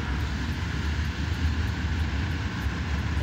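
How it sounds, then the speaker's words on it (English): Norfolk Southern diesel locomotives in Train Sim 2020 throttle up on a steep grade, a steady deep engine roar with low rumble, loud and continuous with no voices. "Sounds like all the engines are on, so we're going to go ahead and throttle up."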